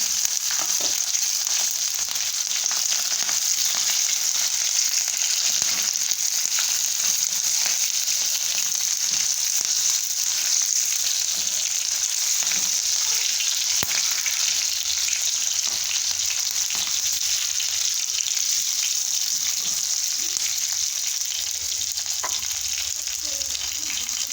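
Mustard seeds and green chillies fry in hot oil on a stove, a loud, steady, unbroken sizzle that runs close and constant for the whole stretch.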